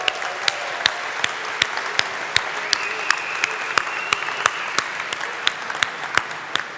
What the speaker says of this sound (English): give them a huge, huge round of applause